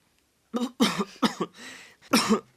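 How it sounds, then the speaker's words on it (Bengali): A few sharp, harsh coughs from people breathing smoke near a cooking area come in quick bursts from nearby, with short pauses between them, then one last cough. "মানুষজনও অনেক কাশি দিচ্ছে"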